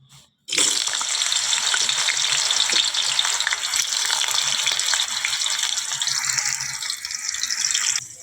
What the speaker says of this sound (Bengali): এবারে আলু আর কাঁচকলা সবগুলো ভেজে নিব এক এক করে।